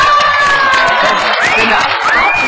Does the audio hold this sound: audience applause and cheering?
yes